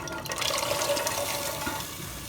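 Chickpeas tipped into a pot of water for degi chana pulao, giving a steady watery rush and splash that holds for about two seconds before easing off, with no talking over it.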